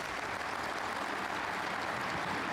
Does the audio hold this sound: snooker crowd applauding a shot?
yes